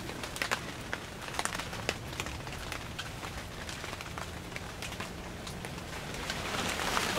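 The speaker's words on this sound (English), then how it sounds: "Sounds like the rain's coming." Rain beginning to fall on leaves and ground inside a closed-in bush in July, a dense scatter of close light patters and drips that grows louder toward the end, with no talking.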